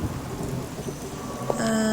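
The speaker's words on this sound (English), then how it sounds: "It's raining! I love rain." Rain and thunder from the video game Dead Reckoning: Silvermoon Isle, a steady hiss of rainfall with low rumbling thunder, joined near the end by bright sustained tones, with no talking.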